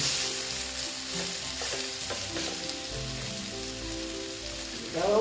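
Bata fish curry masala with turmeric sautéing in a pan for a Bengali fish jhal with potato and eggplant, giving a steady close sizzle with scraping stir strokes throughout and a brighter burst near the end, no voices.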